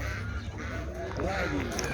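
Ducks honk and quack at a busy poultry market in Çubuk, Ankara, short nasal calls mixed with people talking over steady crowd noise.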